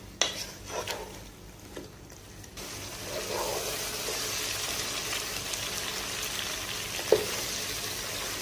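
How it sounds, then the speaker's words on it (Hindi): Chicken fries golden with spices in a pan over a high flame, a steady loud sizzle with an occasional clink of a utensil, following a few quieter seconds of stirring and scraping. "हाई फ्लेम के ऊपर आपने चिकन को इस सारे मसाले के साथ गोल्डन करना है"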